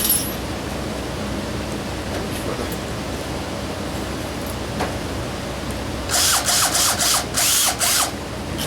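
A power drill running a new bit set whirs in several short, loud bursts near the end, after a long stretch of quiet workshop room noise with a few faint knocks.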